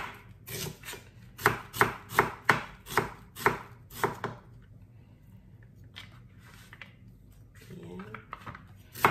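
Onion being sliced on a cutting board for milkfish in coconut milk: a quick run of about eight sharp, evenly spaced knife chops up close, then a pause and a few softer taps.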